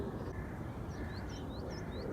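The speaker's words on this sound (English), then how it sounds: "Distant cawing, I think it's rooks in the distance." Distant rooks caw in a few faint, scattered calls over steady outdoor background noise, with a brief seagull-like cry mixed in.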